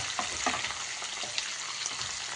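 Curry leaves and spices frying in hot oil for pulihora, a dense, even crackling sizzle close to the pan with faint stirring taps, and no talk.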